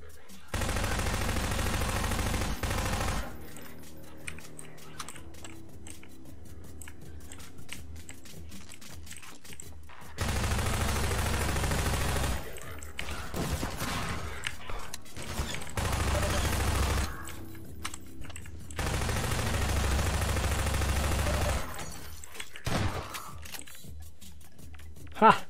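Shooting in the map-lab video game Retreat and Advance, with several loud bursts of rapid gunfire separated by quieter stretches of faint clicks, firing from inside a building out a window.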